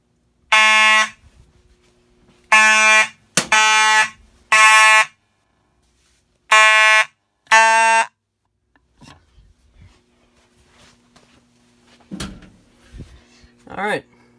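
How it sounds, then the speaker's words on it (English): During a fire alarm system walk test, a fire alarm horn triggered by a ceiling smoke detector sounds in six loud, buzzing bursts of about a second each. Quieter handling noises follow in a room that is otherwise quiet. "let's go ahead and test this smoke detector"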